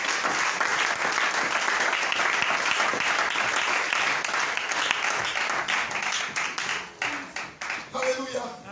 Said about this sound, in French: Est-ce que tu peux acclamer très fort ton Dieu?